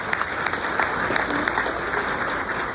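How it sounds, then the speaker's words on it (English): Crowd at a graduation ceremony clapping, a dense and steady burst of applause at close range, filling the whole moment without talk. "So yeah, you clap for that."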